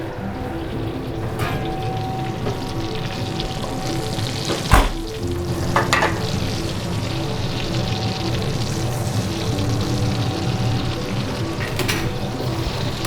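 A venison steak sizzles and crackles steadily in a hot pan, close and continuous, with a few louder clanks and scrapes as the meat is handled.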